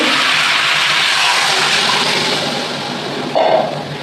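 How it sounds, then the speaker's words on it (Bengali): Water pours steadily into a cooking pot of Bengali potato and stem chorchori, a close, rushing splash that continues throughout and swells briefly near the end. "আমি এবার সেদ্ধ হওয়ার মতো জল দেবো"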